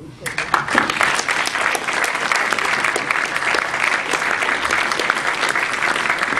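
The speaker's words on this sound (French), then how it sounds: "je crois qu'on peut la remercier et l'applaudir" Audience applause at a superhero comics screening and Q&A, dense sustained clapping from a room full of people, loud and steady throughout.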